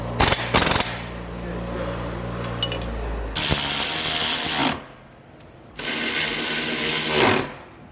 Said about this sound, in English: So Erwin just tightened the 4